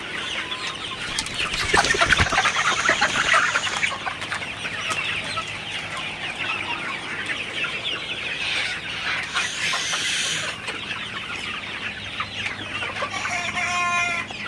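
Sonali super hybrid chickens cluck and chatter steadily in a flock during hot, humid weather, with occasional louder squawks and a faint rooster crow near the end, a continuous close chorus with no talk.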